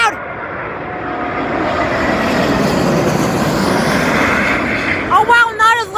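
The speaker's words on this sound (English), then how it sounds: "That was actually surprisingly pretty quiet for an A380, for the biggest freaking passenger plane ever built." China Southern Airbus A380-841 passenger jet landing in a crosswind, a broad steady jet roar swelling and fading over several seconds, followed by voices talking near the end.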